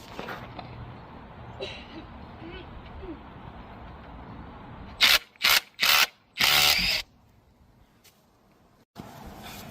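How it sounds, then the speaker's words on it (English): A cable is being unbolted on an Acura TL Type S in a garage, with a few sharp, loud bursts of ratcheting tool noise and scraping between quieter stretches and someone talking. "So I'm gonna unbolt this"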